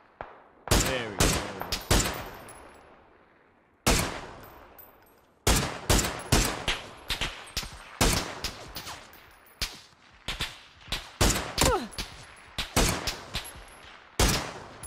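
Rapid sharp gunshots ring out in PUBG, bursts of loud close cracks with echoing tails, some fired in quick strings, others spaced apart, with brief pauses between volleys.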